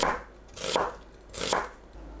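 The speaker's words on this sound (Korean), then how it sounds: "양파를 곱게 채 썰어줍니다." A knife finely slices onion on a cutting board in three slow, evenly spaced strokes, each a quiet, soft crunching cut.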